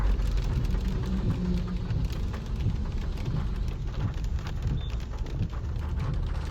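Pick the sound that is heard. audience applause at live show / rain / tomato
rain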